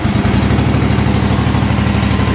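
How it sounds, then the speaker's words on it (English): A small engine on leaf-job equipment runs steadily after its stiff, tight choke knob has been worked, giving a loud, continuous idling drone with an even low rumble throughout. "See how this choke knob doing today."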